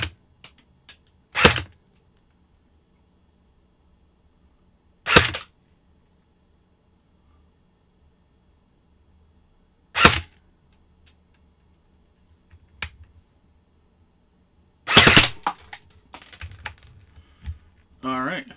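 An MP5 clone airsoft gun fires in semi-auto and full auto. Single sharp, clicky shots come several seconds apart in near silence, followed by a quicker cluster of shots near the end.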